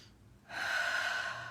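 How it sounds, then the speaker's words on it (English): A single deep inhalation, close and audible on its own, drawn in steadily for about a second after a short quiet moment. "let's take a breath"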